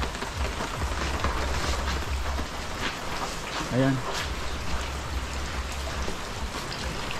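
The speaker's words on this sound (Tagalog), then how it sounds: "Walang tigil ang ulan mga kabayan ha." Steady all-day rain falls continuously with a constant hiss and patter, while a brief spoken Tagalog word comes through near the middle.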